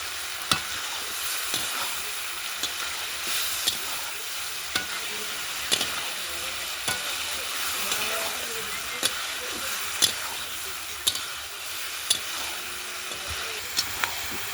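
Browned potatoes being stirred and fried in a pan, a soft continuous sizzle broken by regular sharp clicks of a utensil against the pan, close by and steady, with no voices.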